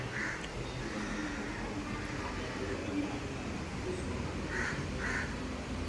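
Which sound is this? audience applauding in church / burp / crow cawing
crow cawing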